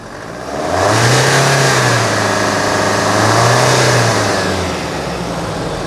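A Chevrolet S10 pickup engine revs up hard from idle, holds a loud sustained roar, dips briefly and rises again before easing back, heard up close with no voices.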